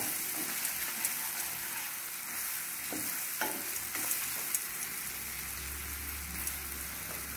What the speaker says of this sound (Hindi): मसाले भून जाए और हमारा प्याज भी थोड़ा भुन जाएगा। गुलाबी होने तक भून लें इसको।